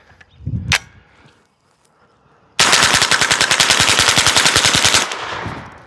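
Rapid burst of .22 LR rounds fired from an AR15 with a conversion kit, a loud sustained string of closely spaced cracks lasting a few seconds after a brief metallic handling clack and a pause.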